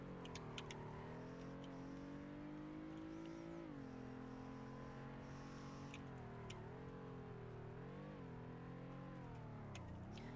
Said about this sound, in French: Donc, ma voiture, elle drift de malade.